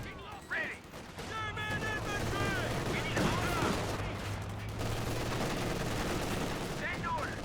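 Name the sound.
gunfire in Company of Heroes 2 video game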